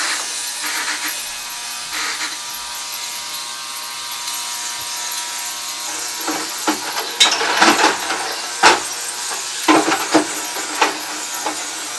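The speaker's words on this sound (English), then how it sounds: "I'm going to put them all in the ultrasonic cleaner now." An ultrasonic cleaner runs with toy steam engine parts from a Jensen Model 35 inside, a steady high-pitched hiss and buzz with intermittent rattling clicks as the parts vibrate.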